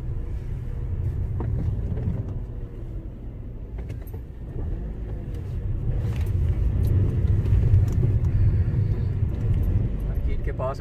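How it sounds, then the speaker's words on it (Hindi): A car creeping slowly through heavy road traffic near a market in Bradford, with a low, steady engine rumble and passing vehicle noise, and a person talking over it. "ट्रैफिक बहुत ज्यादा है अभी, स्लो स्लो हम जा रहे हैं"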